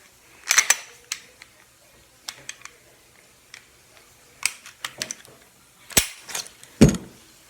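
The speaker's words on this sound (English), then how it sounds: "Let me do a disassembly." Metal clicks, snaps and sliding parts of a pistol being taken apart by hand, close by and fairly quiet, in scattered bursts with a few sharper clacks near the end.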